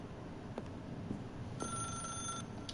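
A telephone rings in The Stanley Parable video game, a bright electronic ring of about a second over a steady ambient hum, with faint clicks before it.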